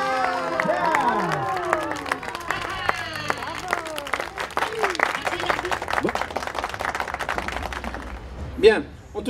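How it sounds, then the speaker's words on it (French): A crowd at the Fête du terroir 2017 applauds the Enjoliveurs company, with clapping running under a loud amplified voice and chirping sounds, then tapering off near the end, where one short loud burst stands out. "notre compagnie des enjoliveurs, un tonnerre d'applaudissements, s'il vous plaît"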